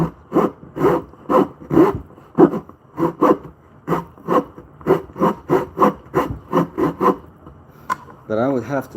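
A hand pull saw cuts through wood for a 2x4 mallet in a quick run of about twenty rhythmic rasping strokes, close and clear with no talk.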